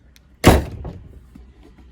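A stuck kitchen door with a latch is yanked, giving one loud close thud and rattle that dies away quickly, with no talking.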